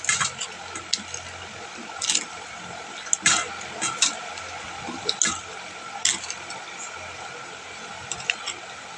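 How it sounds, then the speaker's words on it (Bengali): Cut teasel gourd (kakrol) pieces being washed in water, with intermittent splashes and sloshing bursts spaced unevenly, close and moderately loud over quiet background. "বন্ধুরা, কাঁকরোলটা কাটা হয়ে গেছে, এবার ধুয়ে তুলে নিচ্ছি।"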